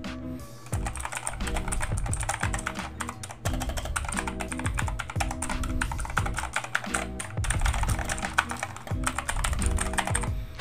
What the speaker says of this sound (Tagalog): Blue switch tayo. Gamit natin is blue switch. Medyo maingay nga lang.